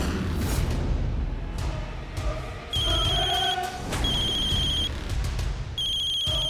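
A phone rings in repeated electronic bursts over background noise and indistinct activity, the ringing pattern recurring several times.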